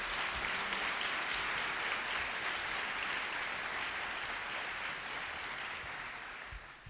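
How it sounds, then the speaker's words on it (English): Breakfast audience applause for school board partners in education, a broad steady wash of many hands clapping, slightly distant and fading near the end. "So let's give them a round of applause."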